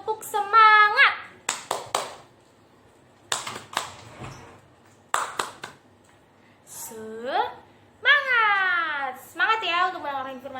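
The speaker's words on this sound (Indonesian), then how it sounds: "Sebelum itu kakak mau denger tepuk semangatnya dulu dong." Children in a Sunday school service clap a rhythmic spirit-clap pattern, bursts of quick hand claps alternating with chanted voices in a small room.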